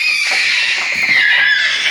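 A baby girl shrieks loudly and continuously in a high, piercing, whistle-like pitch, close and sustained throughout in a noisy family home.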